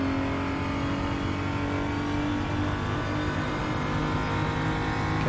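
A BMW M235i engine in the RaceRoom racing game drones steadily at high revs throughout, loud and close, with a constant buzzy tone and no pauses.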